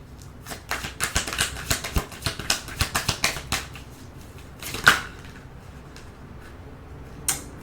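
Tarot cards are shuffled by hand in a rapid run of crisp, close snapping riffles, then a pause, one sharp tap, and a last faint riffle.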